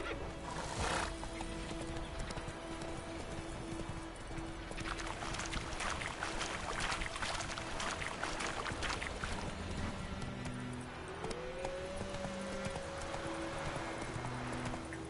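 Geralt's horse Roach gallops in The Witcher 3: Wild Hunt, with rhythmic hoofbeats, a whinny near the start and bursts of motion and splashing over a constant ambient bed.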